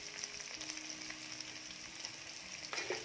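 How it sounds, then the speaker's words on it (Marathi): Onions and garlic frying in a pan for a Malvani-style egg curry, giving a continuous, even sizzle close by, with a brief louder stir near the end. "कांद्याचा रंग बदलेपर्यंत छान भाजून घेऊया"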